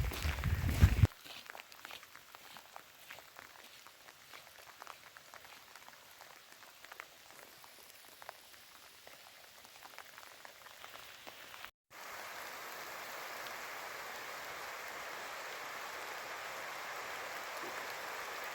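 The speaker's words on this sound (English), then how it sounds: "Went for a walk and the rain started." Rain falling outdoors on a mountain walk, a soft steady hiss with scattered drops and footstep-like crunches, briefly interrupted by a short cut before the patter resumes, faint and without talk.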